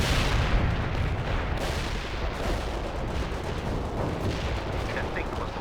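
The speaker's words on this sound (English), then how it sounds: "Heavy fire support Strike is target inbound" Heavy artillery barrage in the strategy game World in Conflict, a dense continuous rumble of booming shell impacts and blasts, loud and unbroken, with no clear gaps between explosions.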